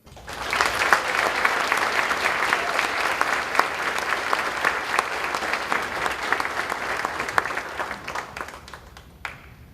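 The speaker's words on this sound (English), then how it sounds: "it's my honor to please introduce and give a round of applause for our mayor, Kevin Coleman." A large crowd applauding steadily for several seconds at a State of the City address, dense and energetic clapping that tapers off at the end.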